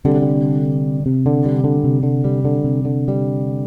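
A sustained sus2 chord rings out on bass guitar, held steady and loud with a few re-plucked notes, open and unresolved in character, no voices.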